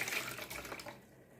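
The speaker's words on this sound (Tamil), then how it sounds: "இப்போ இதில் ஒரு போனி தண்ணி ஊற்றிக்கணும்." Water pours into a pan for cooking ragi kali, a soft splashing trickle that tapers off after about a second, fairly quiet and with no talk.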